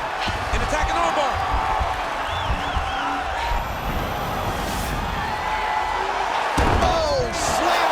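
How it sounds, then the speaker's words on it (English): In a UFC women's bout, one fighter slams her opponent to the canvas while escaping an armbar. The loud, dense arena roar carries sharp thuds and impacts, and a commentator talks over it. "slams her to the ground"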